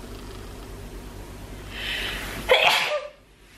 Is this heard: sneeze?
yes